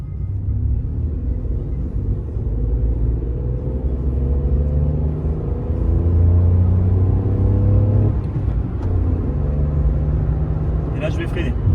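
A Citroën C1 city car accelerates on a straight road, its small engine rumbling and rising in pitch through the revs, with a gear change partway. A voice talks over the steady engine noise from inside the cabin.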